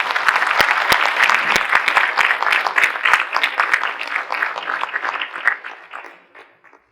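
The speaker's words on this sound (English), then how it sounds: "So I would just ask you to please give him the applause." A conference audience at an inaugural session breaks into loud, dense applause that holds steady, then thins out and fades to a few last claps and silence.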